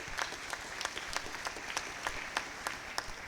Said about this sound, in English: I think we need to clap for Botswana and Zambia.